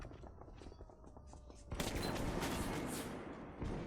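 Gunfire in the video game Metro 2033 Redux, a burst of rapid shots followed by a loud sustained roar of fire and noise, with a voice briefly audible.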